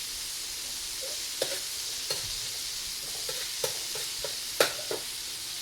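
Garlic sautéing in a pan with a faint continuous sizzle, broken by a few soft scrapes and taps of a utensil stirring, quiet and unhurried, with no talking.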